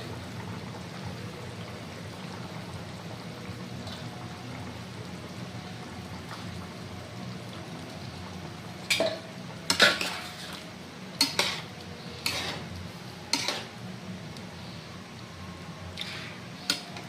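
Soybean balls are dropped and stirred into a boiled potato curry in a metal pot, with soft bubbling and several sharp spoon-on-pot clanks and scrapes in the second half.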